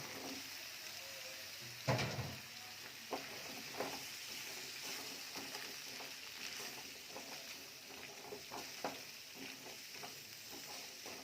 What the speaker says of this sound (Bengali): আলুটা সুন্দর করে কষিয়ে নেই, তারপরে অন্য কিছু দেব।